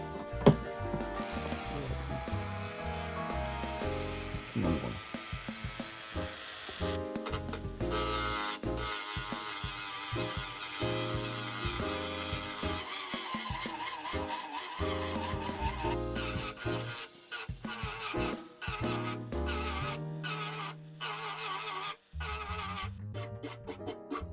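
A rotary tool grinds slowly along the plastic hull of a Wave Mikasa battleship model kit. It makes a long, steady whirring and grinding with ratchet-like mechanical texture, broken now and then by brief pauses, with no speech.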